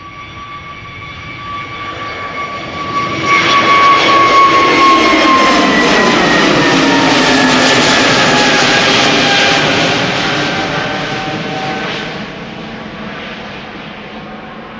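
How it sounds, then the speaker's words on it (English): At Amsterdam Schiphol Airport a JetBlue jet lands while an EasyJet jet takes off, a loud close roar of jet engines swelling, holding steady, then slowly fading, with a whining tone that falls in pitch. "JetBlue in the background, landing as EasyJet is taking off."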